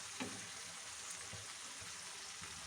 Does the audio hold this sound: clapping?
no